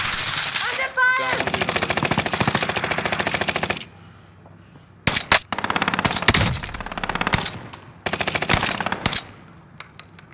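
Machine gun fire in a first-person shooter game, long loud sustained bursts of rapid shots broken by short pauses, close and dominant, with occasional game radio chatter mixed in.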